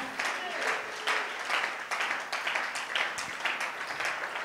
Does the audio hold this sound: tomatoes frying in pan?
no